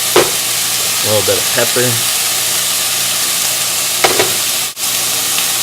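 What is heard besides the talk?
stirring a stir fry sizzling in the pan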